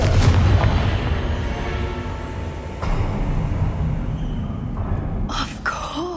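A booming Confringo blast spell explosion in Hogwarts Legacy, a loud low burst at the start followed by a rumbling decay and a second smaller impact mid-way, with bright magical swishes near the end.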